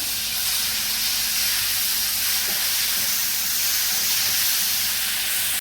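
Tomato paste is poured into sautéed onions in a pan for a soya chunks dish, producing a constant, close, loud hissing sizzle that holds evenly throughout without speech.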